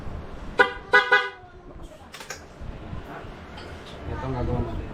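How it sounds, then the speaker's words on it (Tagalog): A Suzuki Raider/Sniper 155 motorcycle horn honks three times in quick short bursts, fairly close, followed by engine and road noise with faint voices. "Parang ganda ng busina ko, no?"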